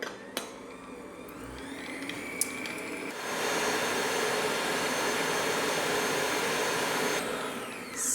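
Electric hand mixer whisking coconut oil frosting on high speed, a steady loud whirring motor that ramps up partway through and runs continuously before easing off near the end.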